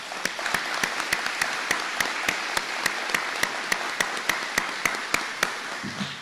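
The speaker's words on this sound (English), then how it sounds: "Please give them all a big round of applause." A crowd at an Army depot change-of-command ceremony gives a big round of applause. Continuous clapping runs throughout, with a few sharp, evenly timed claps standing out in a steady beat before it tapers at the end.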